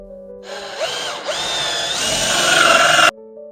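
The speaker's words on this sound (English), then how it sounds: "Came from the outside to drill the hole." A power drill bores a hole for a waste pipe from the outside of a wall, its whine rising in pitch and bogging briefly as the bit bites, then running steadily loud and close for a few seconds before stopping abruptly.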